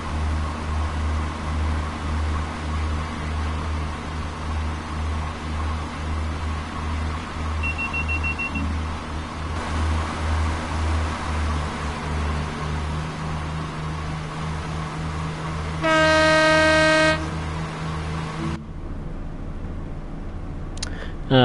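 A Class 166 diesel train in the Train Sim World 3 video game on the Great Western route out of Paddington drones with a steady low engine hum and whir, with a brief cab tone and a short loud buzzer partway through.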